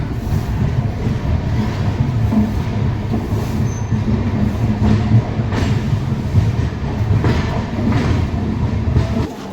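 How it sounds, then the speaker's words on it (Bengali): The Rupasi Bangla Express, out from Santragachi, rolls into Kharagpur Junction with a loud, continuous rumble and rhythmic wheel clatter, with brief metallic squeals over the steady roar. "সাঁতরাগাছি থেকে ছেড়ে ট্রেন এসে পৌঁছালো তার ফার্স্ট হল্ট খড়গপুর জংশন"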